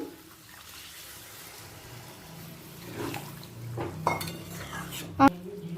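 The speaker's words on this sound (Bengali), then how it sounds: "আমি লবণ জলে যে পনিরটা ভিজতে দিয়েছিলাম সেই জলটাই আমি দিয়ে দিলাম" Salt water used for soaking paneer goes into a potato and paneer curry pan with a soft watery rush, then metal utensil clatter and a sharp clank of the pot near the end.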